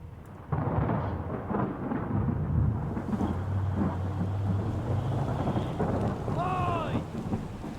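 A thunderstorm in the video game Return of the Obra Dinn rumbles with deep, rolling thunder over steady rain aboard a ship, loud and continuous after a quiet start, with a creaking tonal sound near the end.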